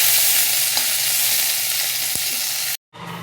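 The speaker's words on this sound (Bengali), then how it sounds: "তেলে এবার লাস্টে আমি উচ্ছেটাকে ভেজে নেব" Bitter gourd frying in hot oil in a wok, a steady loud sizzle with faint stirring clicks, cutting out abruptly near the end before the sizzle resumes.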